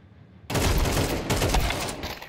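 Counter-Strike 2 Wingman match on the Overpass map erupts into sudden loud bursts of rapid gunfire after a brief quiet moment, rattling continuously to the end.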